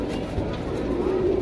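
Pigeons coo softly in a pigeon shop in Kurla East, Mumbai, a low murmuring warble over steady background noise with faint other sounds.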